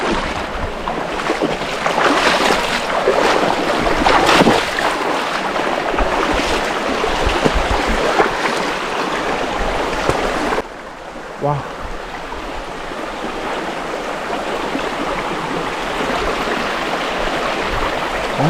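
Water of a river running over many slippery, algae-covered stones, a steady broadband rush close by, with a brief voice partway through.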